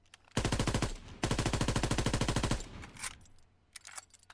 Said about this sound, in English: Yeah, that's a Johnson light machine gun, and they've put it in to the rifles